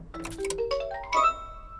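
A computer plays a short rising startup chime of bright, ringing tones as it is switched back on, lasting under two seconds, clear and fairly soft, with no talking.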